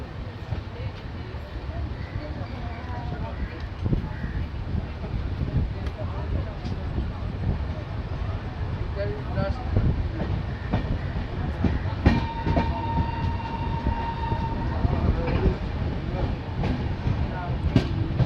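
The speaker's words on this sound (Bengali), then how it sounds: "2 মিনিট মতো দাঁড়ানোর পরই আলুয়াবাড়ি রোড স্টেশন থেকে ট্রেন ছেড়ে দিয়েছে" The Uttarbanga Express pulls out of Aluabari Road station after a two-minute halt, with a steady rolling rumble and wheel clatter carrying throughout and a brief tonal squeal or horn-like note partway through.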